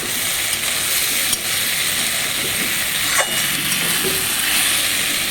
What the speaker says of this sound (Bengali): পটল আলুটা ভাজছি পেঁয়াজ দিয়ে